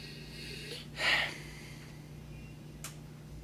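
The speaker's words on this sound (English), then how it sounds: "Little sniffy sniff first." A short sniff of wine held in a glass, one brief breathy inhale standing out over a low steady hum, with a faint click later on.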